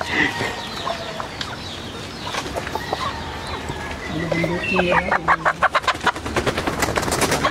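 Black Australorp and Rhode Island mix chickens cluck close by, with overlapping calls growing into a rapid run of sharp, rhythmic clucks toward the end over steady farmyard background.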